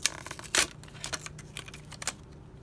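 A fresh pair of scissors snips repeatedly, a quick irregular series of crisp cutting and rustling sounds with one louder crunch near the start, close and fairly quiet.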